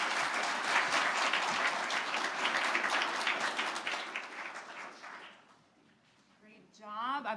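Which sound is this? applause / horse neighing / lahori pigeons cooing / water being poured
applause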